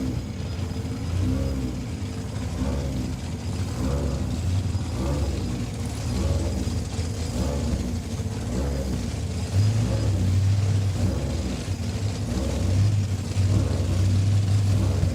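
A 4-cylinder drag race car, the 23 Alter, runs down the drag strip at Saskatchewan International Raceway, its engine a steady loud rumble that swells with higher revving tones over a constant background roar.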